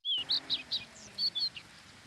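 A greenfinch at a garden bird table gives a quick series of bright, high chirps, about eight short notes in an uneven rhythm, clear against a quiet background.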